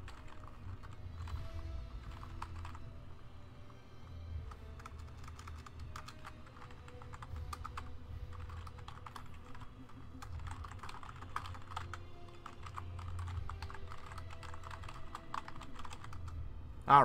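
Fingers tap on a computer keyboard in quick irregular bursts of clicks with short pauses, close and fairly quiet over a low steady background hum, with no voices.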